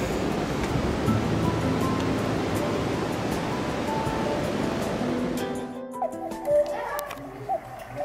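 A steady rush of a waterfall in the Southern Black Forest, Germany, roars for several seconds, then drops away, leaving a quieter background with faint scattered sounds.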